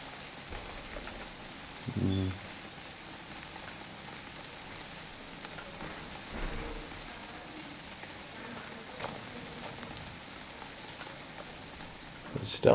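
Steady rain in the survival game UnReal World, a constant soft hiss of falling drops with a few brief louder thuds and bumps, no talking.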